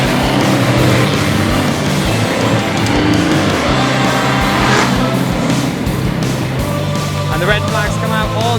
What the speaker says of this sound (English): the red flags come out on the V8 stock cars for their opening heat